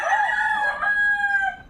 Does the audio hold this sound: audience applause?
no